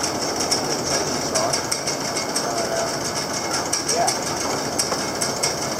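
A tractor engine runs close by with a steady, rhythmic clattering knock and a busy mechanical rattle.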